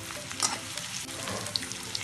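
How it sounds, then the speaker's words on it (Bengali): Chopped onion frying in oil, a soft steady sizzle up close with a couple of faint utensil clicks. "পেঁয়াজ কুচি কিছুক্ষণ ভাজতে হবে।"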